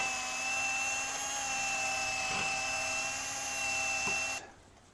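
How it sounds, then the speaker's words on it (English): A power drill with a wire brush attachment whirs with a steady high-pitched whine for several seconds while cleaning a BMW E46 differential mount area, then cuts off abruptly, leaving near silence. "we're just gonna hit this with a drill real quick"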